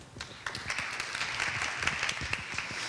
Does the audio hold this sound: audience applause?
yes